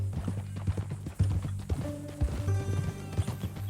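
Horse hooves clip-clopping at a walk in Red Dead Redemption 2, an irregular string of close knocks mixed with tack jingles, a snort and soft game music and ambience.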